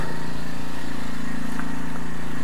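Champion T334FS four-stroke trimmer engine idling after a valve clearance adjustment, a steady close mechanical putter at an even rhythm, continuous and moderately loud with no talking.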